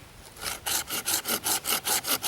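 Close, rhythmic back-and-forth rasping of a saw cutting through resin-rich fatwood, about eight steady strokes in quick succession, loud and clear with no talking.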